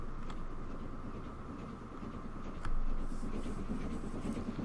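Train running in the Transport Fever 2 video game, a faint, steady rolling rumble of rail cars with a soft rise partway through, low in level and without talk.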